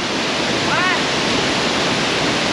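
Steady, roaring rush of a waterfall in Kyrgyzstan fills the whole clip, loud and close, with no pauses.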